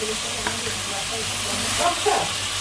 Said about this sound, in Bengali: সব মশলাগুলো দিয়ে দিচ্ছি এখন মশলাগুলো দিয়ে একটু ভেজে নিয়ে